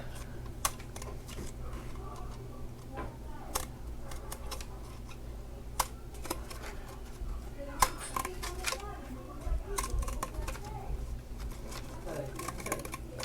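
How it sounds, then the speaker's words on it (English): Scissors snip little paper tabs for a recycled 3D tree craft, a series of quiet, sharp cuts and paper rustles in a room. "here on the lower part, you want to cut little tabs."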